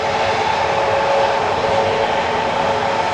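A steady, loud engine roar from a Ryanair airliner moving onto the runway at Manchester Airport, a constant broadband hum with a tonal whine that holds unchanged throughout and has no talk over it.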